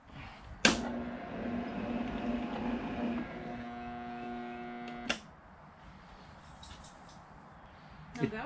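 Electric motor on a Bridgeport milling machine with a fault leaving it short of power, starting with a sharp click and running as a steady hum with whining tones for several seconds before switching off with a click, then quiet room noise.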